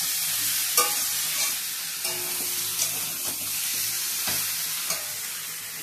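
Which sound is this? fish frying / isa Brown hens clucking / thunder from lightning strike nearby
fish frying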